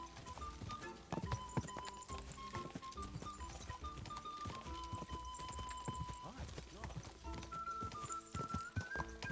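Horse hooves clip-clop at a fast gallop in the Kingdom Come: Deliverance II game, a steady loud rhythm under background music and occasional whinnies.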